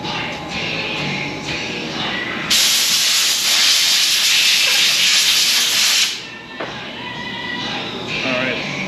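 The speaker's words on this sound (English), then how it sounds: "I'll go blow it off with some air" A loud, close blast of compressed air hisses for about three and a half seconds as mud is blown off a Tesla Model 3 tire in a tire shop, with quieter workshop noise before and after.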